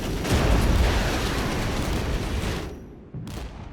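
A napalm strike and gunfire in the Regiments strategy game roar as a dense, rumbling wall of fire and distant shots that holds steady, then thins and drops off near the end.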